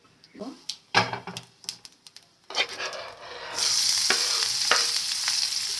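Tempering seeds for poha pulihora are stirred with sharp clinks, then burst into a loud, steady hissing sizzle as they fry in hot oil, close by.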